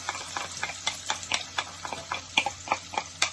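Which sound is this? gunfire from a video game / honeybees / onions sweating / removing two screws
onions sweating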